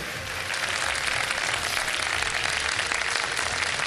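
Studio audience of a live Ramadan iftar quiz show applauding, a steady dense wash of clapping that swells in after a brief quiet start and holds loud and even to the end.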